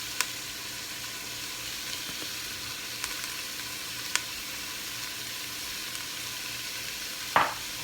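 Crumbled tofu seasoned with garlic powder, pepper and oregano sizzles softly and steadily in a pan, with a few faint clicks and scrapes as it is stirred and one sharper clatter near the end; no talking.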